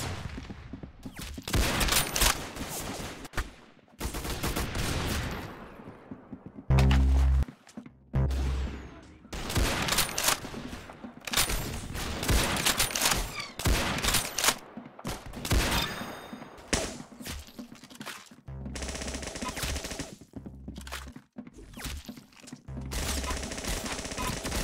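Rapid bursts of game gunfire from Roblox Arsenal crackle loud and near in repeated volleys, broken by brief pauses and cuts, with excited voices sometimes talking between the shots.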